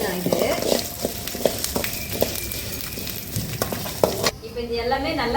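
Garlic and herbs roast on a low flame for a mudakathan thuvaiyal, giving a steady close sizzle broken by sharp scrapes and taps of a stirring spoon against the pan, with faint voice-like sound in the background.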